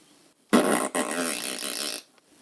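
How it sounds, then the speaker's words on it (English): A dog's fart played as a comic sound effect in an audiobook, a single loud, raspy, sputtering blast lasting about a second and a half, stopping abruptly and heard alone. "Farting, said the vet, or rectal flatulence, as we say in the medical profession"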